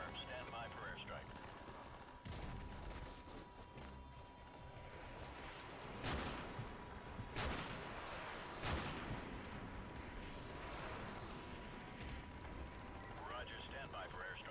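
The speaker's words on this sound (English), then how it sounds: "Target confirmed. Stand by for airstrike." Airstrike explosions and gunfire in a military video game: a continuous rumble of fire with several heavy booming blasts spaced a second or so apart, under on-screen radio voices speaking throughout.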